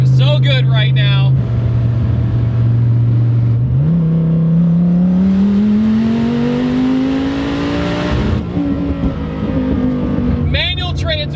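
A 1400HP twin turbo Dodge Viper with a manual transmission roars loudly up through the revs, drops briefly at a gear shift, then climbs steadily again. Its heavy engine note fills the cabin, with short bursts of turbo whoosh and flutter at each end.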